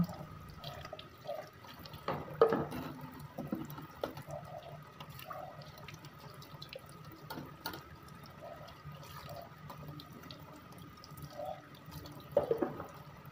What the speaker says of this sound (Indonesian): Setelah makan sahur, biasanya saya mencuci seluruh perabot dapur yang kotor.